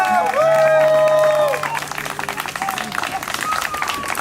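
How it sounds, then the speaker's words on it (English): A party crowd claps for Mom, loud applause with cheering voices over it at first, then thinning into scattered clapping and chatter. "Let's have a big hand for Mom."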